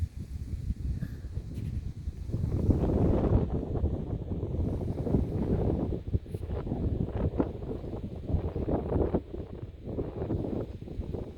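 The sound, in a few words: breeze blowing on a hilltop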